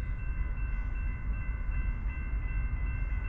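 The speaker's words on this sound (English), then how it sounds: "And there's the train." A CSX ethanol freight train led by ET44AH and ES44DC locomotives rolls past close by at a level crossing in Edison, New Jersey, with a heavy, continuous rumble of wheels and a thin steady tone above it, loud and unbroken.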